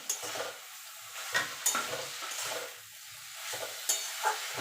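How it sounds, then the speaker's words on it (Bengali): Gourd greens stems with poppy seed paste stirred in a pan, a soft sizzle under repeated spatula scrapes and light clinks at an irregular pace, close but quiet, no talking. "এবার ভালো করে নাড়াচাড়া করে নেব।"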